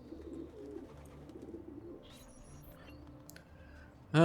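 A pigeon coos softly in the Assassin's Creed II video game, a low murmuring call early on, followed by faint clicks and a sudden loud burst at the end.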